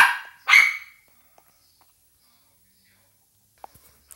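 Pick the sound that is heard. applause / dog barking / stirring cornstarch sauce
dog barking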